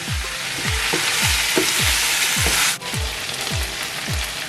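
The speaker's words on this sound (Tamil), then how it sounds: "திருப்பி ஒருக்கா கிளறிட்டு" Chicken biryani with biryani masala sizzles loudly in a pan, with a steady run of about ten rhythmic scraping stirs, and a brief dip in the frying hiss near the end.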